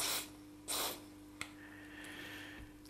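CorrosionX sprays from a nozzle poked into the plastic body of a Mini 250 quadcopter with a CC3D board: two short hissing bursts followed by a click and a fainter, longer spray.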